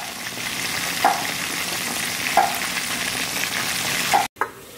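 Chicken pieces frying in a pan in a home kitchen, a steady close sizzle of hot oil running throughout, with a few brief clinks from stirring and a short cut near the end.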